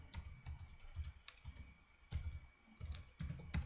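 Typing on a computer keyboard during CAD work, with soft irregular key clicks and a few firmer presses, close but quiet, with no talking.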